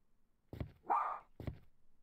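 A dog barks in the horror video game Ring Academy, a few close, clear barks with a short whine between them, no talking.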